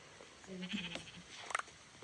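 Sheep bleating in Minecraft, a few short synthetic bleats close together, fairly faint and heard alone.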